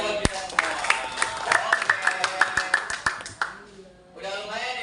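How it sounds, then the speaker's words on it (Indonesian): A group claps hands in a class or workshop, with sharp irregular claps scattered at moderate loudness, fading into a brief quiet before a voice resumes. "Tepuk tangan dong semuanya buat kita semua."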